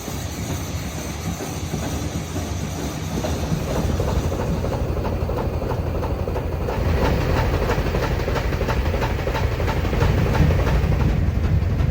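A Swiss mountain train heading down to Brienz rolls steadily along the rails, a low rumble with a rhythmic clickety-clack running throughout, close and continuous.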